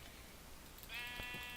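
A sheep in the video game Minecraft gives a short, faint bleat, a single wavering call that appears partway through.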